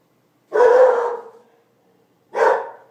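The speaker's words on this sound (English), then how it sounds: "There's a dog." A dog gives two loud, close barks about two seconds apart, each a single sharp woof trailing off, with silence between them.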